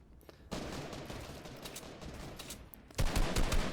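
Rapid gunfire from a Fortnite World Cup match, a sustained crackling volley that grows louder and denser toward the end, close and continuous with no pauses.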